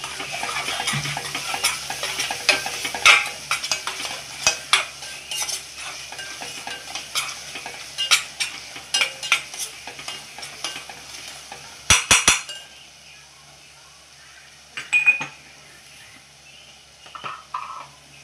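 Chopped onions with salt fry in a pan while a spoon scrapes and clatters against the metal in irregular bursts over a soft, steady sizzle, then the stirring thins to occasional knocks.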